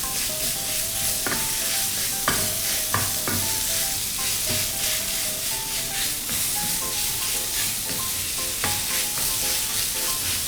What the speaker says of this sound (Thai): ใส่หมูบดลงไปนะครับ แล้วก็ผัดนะครับให้หมูสุกนะครับ